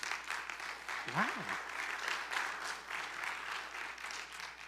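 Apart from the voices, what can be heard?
audience applause in church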